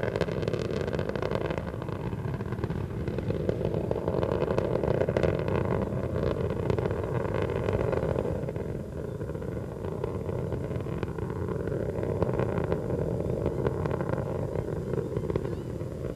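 A deep, continuous rumbling roar with broad low-frequency power, steady and loud throughout: Space Shuttle Atlantis's three liquid-fuel main engines throttling back during launch, heard from a distance.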